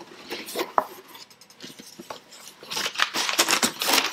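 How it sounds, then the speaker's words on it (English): Quick scraping cuts and crinkly slicing of packing tape on a cardboard box, several short bursts growing busier toward the end, close up, with no talk. "Once you cut the tape and you open up the box"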